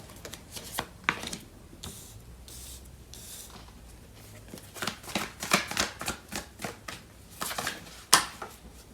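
Tarot cards are shuffled by hand in quiet, irregular bursts of soft riffling and flicking, with a few sharper snaps near the end, close and fairly faint.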